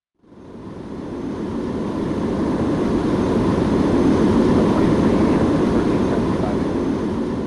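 Airbus A350 airliner in the Airline Commander video game, taking off from Shanghai Pudong, its engine roar rising quickly into a loud, sustained, broadband rush that continues unbroken to the end, with no talking.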